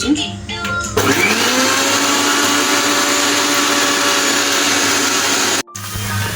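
A kitchen mixer grinder whirs loudly and steadily, pulverising ginger, garlic, cloves, cinnamon and bay leaves into a paste, starting after a brief pause and cutting out for a moment near the end before resuming.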